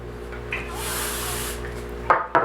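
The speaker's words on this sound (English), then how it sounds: "I'm give it a good spray." A close hissing spray from a spray bottle onto hair lasts about a second, followed by a couple of short rustling handling sounds; no one speaks.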